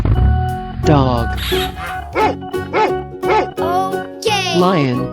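Dog barking in a 3D animal slide video game, a series of sharp, loud bow-wow yaps in quick succession over background game music, with a child-like voice mixed in.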